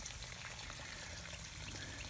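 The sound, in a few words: water flowing out of PVC vinyl irrigation tubing T connector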